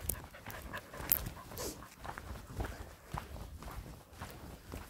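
Border Collies walk along outdoors, with footsteps, rustling and panting near at hand in an uneven, shuffling rhythm.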